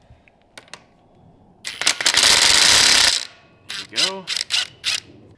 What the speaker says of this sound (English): next up, we're gonna remove our motor nut